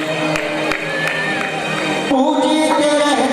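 An audience applauds at a Jain religious ceremony honouring a guest, steady clapping and crowd cheering with a musical tone underneath, shifting partway through as singing or music swells.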